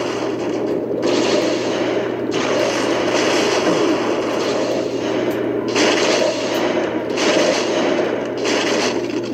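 Sniper gunfire in the video game Psi-Ops: The Mindgate Conspiracy, heard as dense, sustained shooting and battle noise that fills the whole stretch with little letup, loud and continuous with a few brief dips.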